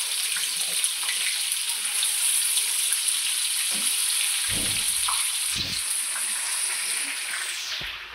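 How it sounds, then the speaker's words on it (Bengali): Meat dropped into hot oil sets off a continuous, fairly loud frying hiss with scattered pops and a few low clunks, and the sizzle eases slightly toward the end. "এবার আমি মাংসটা তেলের মধ্যে দিয়ে দিলাম।"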